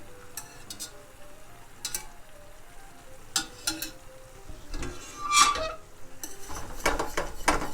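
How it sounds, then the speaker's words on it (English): Spaghetti finishing in a pan of sizzling garlic, oil and parsley, with a soft frying hiss under repeated clinks and scrapes of a utensil stirring against the pan, close by and without talk. "we'll bring the spaghetti in and finish cooking it within our garlic and oil and parsley"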